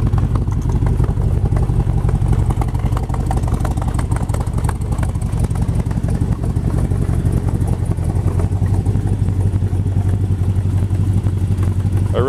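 A 1967 Chevrolet Corvette Stingray 427 tri-power V8 runs at a loud, lumpy idle, its deep rumble steady and close throughout, with mechanical clatter on top and a slight dip in pitch partway through.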